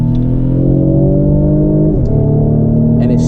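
Mercedes-Benz C300 engine heard from inside the cabin during a paddle-shifted downshift, a loud steady drone that dips briefly as the gear changes and then holds, with no talk.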